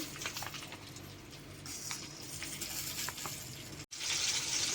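Green chillies, split in half, sizzle in hot oil on a stove at low heat, a steady close crackling hiss with a brief gap near the end before the frying resumes louder.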